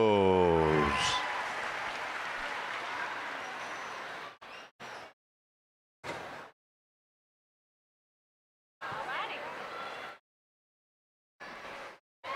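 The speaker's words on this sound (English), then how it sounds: "Let's have a big round of applause, Judge Will" Audience applause for the judge at a youth fair swine show, a dense steady patter of clapping for about four seconds after a brief voice, then fading into short scattered bursts with silent gaps.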